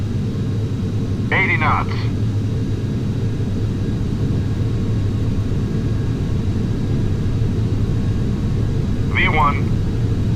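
Airplane engines drone loud and steady during a takeoff roll, a constant low roar filling the cabin while a voice briefly speaks twice over it.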